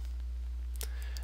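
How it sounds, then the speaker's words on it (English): A computer mouse gives a crisp single click, then a couple of faint lighter clicks, close and brief over a steady low hum. "I will click on my connection."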